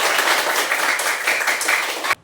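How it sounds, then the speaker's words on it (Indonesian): Classroom applause, a dense steady wash of many hands clapping for about two seconds before stopping abruptly. "Oke, tepuk tangan untuk kita semua."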